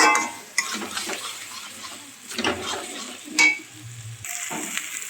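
Fried chicken pieces go into a pan of potatoes and spices, bringing a few bursts of sizzle and clattering pan and utensil knocks against a quiet, intermittent frying hiss, close by with no talking.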